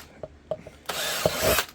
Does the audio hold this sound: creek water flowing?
no